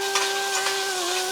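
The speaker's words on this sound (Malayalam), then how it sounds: "നമ്മളെ ചെറുപയർ നെയ്ക്കകത്ത് നന്നായിട്ട് വഴറ്റിയെടുത്തിട്ടുണ്ട്." Cooked green gram sautéed in cow ghee for a payasam, giving a steady soft frying sizzle with faint stirring scrapes and a constant hiss, close and even throughout.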